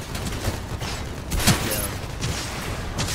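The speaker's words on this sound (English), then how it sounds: "There's just nowhere you can hang out that's safe to keep you away from gunfire at this moment" Gunfire from an online video game match in a group-stage tournament, heard as a dense, noisy wash with one sharper burst in the middle, fairly steady and loud throughout with no clear talk over it.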